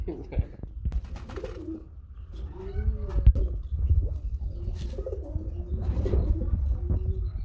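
Gola pigeons, a pair of male and female kept in a loft cage, coo in low repeated phrases, close by and moderately loud, mixed with other birds and background bustle; no one talks over them.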